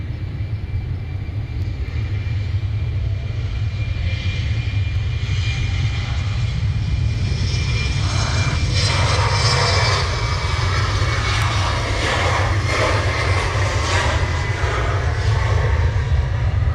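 An aircraft departs runway 15 at Cairns Airport, bound for Alice Springs. Its loud, continuous engine roar builds through the takeoff roll with deep rumble, and no voices are heard.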